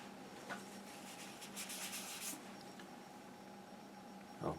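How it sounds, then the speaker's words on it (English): A kneaded eraser rubs and blends pencil on paper during a freehand portrait sketch, a faint, steady, soft scratching close by with no talk. "Maybe just feather that with this kneaded eraser."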